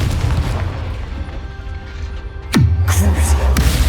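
A Confringo blasting spell explodes in the video game Hogwarts Legacy, one sudden loud boom with a falling whoosh, followed by a sustained low rumble over game background noise.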